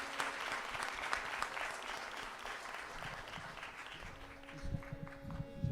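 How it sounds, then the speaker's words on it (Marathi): An audience applauds singers and musicians at a Diwali Pahat music program, with steady, fairly faint clapping that thins out toward the end as a sustained musical tone emerges. "तर पुन्हा सगळ्या या गायक वादकांसाठी जोरात टाळ्या."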